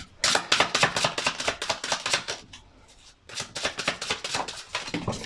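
Tarot cards being flipped and slapped down during a Pisces reading, a quick run of crisp, close snapping flicks in two bursts separated by a short pause.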